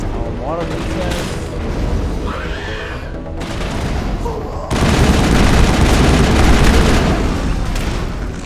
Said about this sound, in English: That is a grenade.